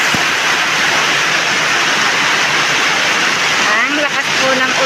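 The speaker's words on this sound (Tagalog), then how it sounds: "Ang lakas po ng ulan." Heavy rain pours down without pause on a house roof, where water is pooling, and soaks a vegetable garden of eggplants. It makes a loud, dense hiss from start to finish, and a faint voice comes in near the end.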